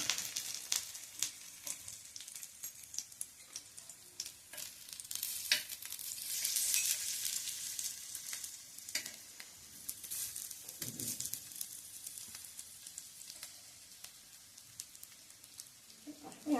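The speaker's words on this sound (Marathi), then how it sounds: "या पद्धतीने हे शॅलो फ्राय करायचं आहे." Alu vadi, colocasia leaf rolls, shallow frying in plenty of oil give a steady, soft sizzle with occasional crackles and stirring clinks, fairly faint and close, running the whole stretch without speech.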